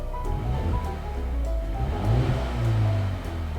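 A Mercedes-AMG A35 hatchback's powerful engine revs up and rumbles loudly, its deep roar rising and falling in steady surges.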